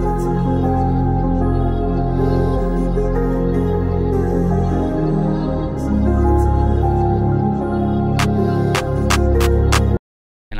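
Melodic music loop used as the base for a hip-hop beat, playing continuously and loud with sustained tonal layers and a low bass line, a few sharp percussive ticks near the end before an abrupt cutoff.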